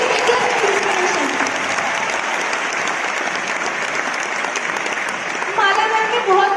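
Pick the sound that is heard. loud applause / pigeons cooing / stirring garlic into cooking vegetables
loud applause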